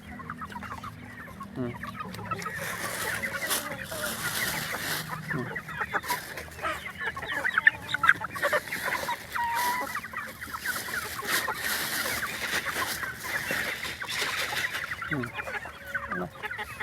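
Chickens cluck steadily in a busy chorus, close and continuous, with occasional louder squawks over a constant barnyard murmur.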